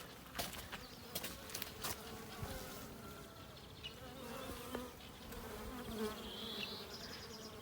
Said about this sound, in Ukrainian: Бджоли вже повилітали гудуть.